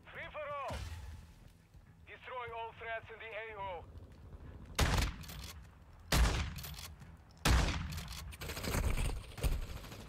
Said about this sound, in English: Fight with a shotgun.